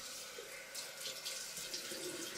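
Tap water runs steadily into a sink as a continuous hiss and splash, close and fairly loud, alone with no voice over it.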